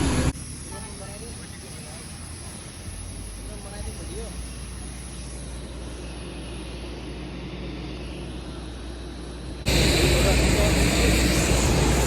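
Airport during boarding with an airplane nearby, a steady low engine roar and broadband rumble throughout, getting louder near the end, with faint voices in the background.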